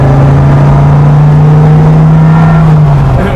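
A Dodge Viper engine and exhaust drone loudly from inside the car, a steady deep tone that rises slightly and then eases off near the end, sustained and close with no talking.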